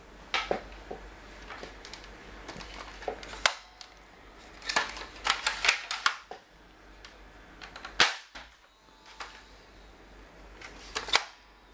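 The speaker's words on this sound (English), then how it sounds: "I'll just shoot it 3 more times with the remaining 3 rings I have" A Koosh Vortex Tornado toy launcher fires rings, producing several sharp, close pops spaced a few seconds apart, mixed with smaller clicks and handling noises.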